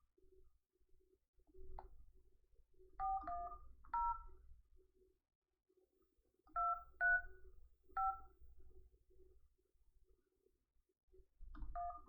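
Telephone touch tones dial a number in several short clusters of beeps spread over a quiet stretch, with soft clicks and faint low handling noise between the groups.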